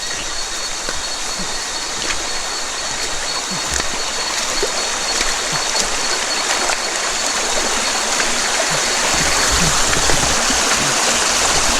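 A river stream flows steadily in the foreground, a continuous broadband wash of water that holds an even loudness throughout, with faint indistinct voices and footsteps now and then.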